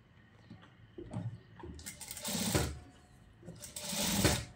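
An electric sewing machine stitches a silk pattu langa blouse in short bursts that build into longer, louder runs of rapid needle clatter, close up and with no voices.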